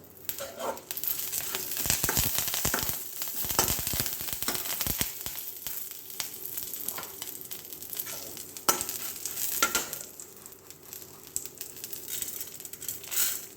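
Curry leaves sizzle and crackle in hot oil while being stir-fried in a pan for a soursop sambar, loud spitting bursts with scraping stir sounds, close by and without talk.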